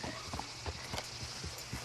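In the Red Dead Redemption 2 video game, a horse's hooves clip-clop at a steady trotting rhythm, moderately close, with a low ambient rumble underneath and no talking.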